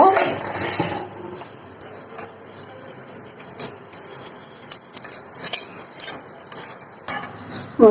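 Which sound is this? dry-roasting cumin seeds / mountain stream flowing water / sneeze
dry-roasting cumin seeds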